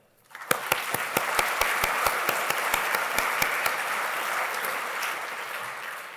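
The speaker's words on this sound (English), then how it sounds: "But perhaps we should have a round of applause for them." Conference attendees applaud the behind-the-scenes staff at the close of a welcoming speech. After a short quiet start, a few sharp, close, individual claps ring out regularly above a broad wash of crowd clapping, which then gradually fades.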